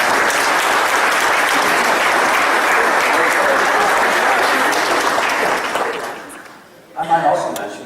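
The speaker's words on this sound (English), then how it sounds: "Do we have a national applause?" Wedding guests in a chapel at Aberdeen Manor applaud the bridesmaids, groomsmen, bride and groom, a loud, dense burst of clapping that holds steady, then fades out and gives way to a brief murmur of voices.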